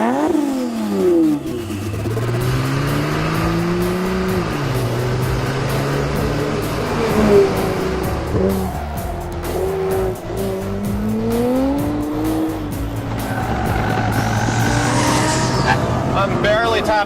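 A Nissan GT-R AMS Performance Alpha 12, an 1,100 horsepower car, revs hard and drifts on a race track, its engine rising and falling over sustained tire squeal, with a driver talking over the loud interior roar.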